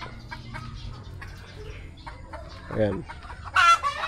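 Chickens cluck softly around a rural yard, with a louder burst of rooster-like calls near the end, and a brief spoken word in the background.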